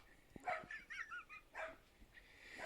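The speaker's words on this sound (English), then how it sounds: "That fucking dog. Shut up!" A dog barks a few times nearby, with short yelping and whining tones in a quick irregular run, fairly faint against a quiet indoor background.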